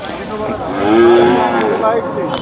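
A cow moos loudly and close by at the Sangola cattle market, one long drawn-out low call with no talk over it.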